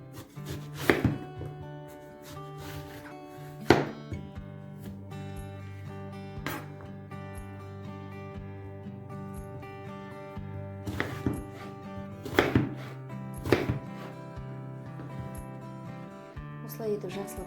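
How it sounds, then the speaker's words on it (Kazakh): Eggplant being cut with a knife for an eggplant and tomato salad: crisp, irregular thuds on a cutting board, some isolated and some in quick clusters, over soft continuous background music. "Осылай етіп жақсылап турап аласыздар барлығын."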